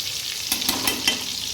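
Bitter gourd frying in oil under a covered pan gives off a continuous sizzle, with a few louder crackling pops over a short stretch and no voices.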